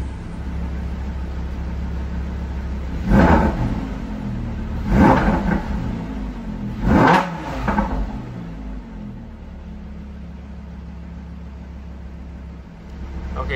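A 2016-or-later Lamborghini Huracan with a transmission error issue idles with a low, steady hum, then its engine revs up in three short bursts a couple of seconds apart before settling back to idle, close by.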